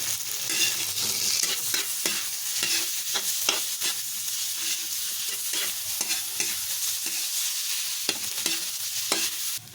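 Corned beef sisig being stirred in a frying pan, a steady loud sizzle broken by repeated scraping strokes of the spatula, close up with no talking.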